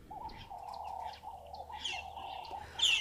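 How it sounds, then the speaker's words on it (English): Several noisy birds call in a steady, dense chorus. A continuous rolling cooing tone runs beneath them, with brighter chirps layered on top and one loud, close call right at the end. "Very noisy birds, make no mistake, but very beautiful."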